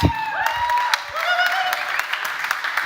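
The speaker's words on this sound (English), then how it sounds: "I want you to applaud Alana Murphy on stage, please." Brief audience applause as Alana Murphy comes on stage at an innovation opening ceremony, clapping beneath background voices and tonal sounds.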